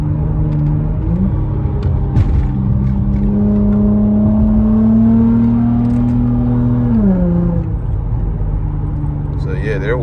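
An Acura TL engine downshifts while driving, its steady hum rising in pitch as the revs climb, holding, then dropping back, heard from inside the car with someone talking over it.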